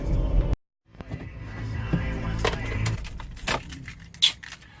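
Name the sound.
keys jangling when taken out of a company car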